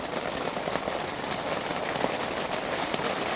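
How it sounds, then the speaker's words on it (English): Rain falling on a tent during a Colorado elk bowhunt, a steady dense patter of drops on the fabric, close and even, with no talking. "Rain."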